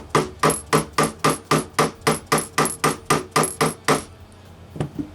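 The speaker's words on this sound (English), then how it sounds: "we're hammering them in with the dead blow hammer" A dead blow hammer taps frets bent to a 7 1/4 radius into the neck of a '74 Telecaster, fourteen sharp, evenly spaced, close strikes in a steady rhythm, then quiet with a faint clatter.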